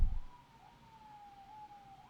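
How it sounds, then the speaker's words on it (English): A siren wails faintly in the background, its steady rising-and-falling tone carrying over a quiet room with no one speaking. "The siren in the background."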